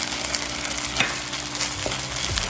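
Scallions frying in a pan of fried rice, a steady loud sizzle with faint stirring scrapes, close and continuous with no talking.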